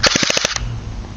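A DE M81 airsoft gun firing full auto: one short, loud burst of about seven rapid, evenly spaced shots that cuts off sharply into quiet.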